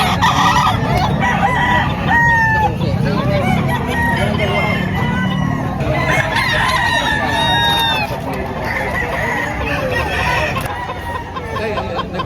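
Roosters crow repeatedly amid clucking fowl at a busy chicken market, several calls overlapping near and far over a constant loud crowd murmur, with people talking in the background.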